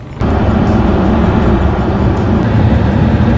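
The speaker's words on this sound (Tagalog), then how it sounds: "Wow, inabutan tayo ng tren" A loud, continuous roar starts abruptly and holds steady as a long train rumbles past very close by in Edmonton, Alberta.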